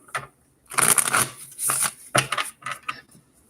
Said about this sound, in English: You shuffle your deck, charge your deck up.